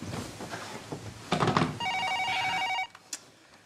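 A telephone rings indoors with a short electronic trill, one burst and then a longer steady ring that stops abruptly, with a soft rustle before and a faint click after.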